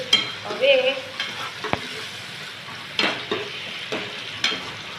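Chopped onion and a medium tomato fry in oil in a pan, giving a steady soft sizzle with stirring scrapes and occasional sharp clinks of a spoon against the pan, close and without talk.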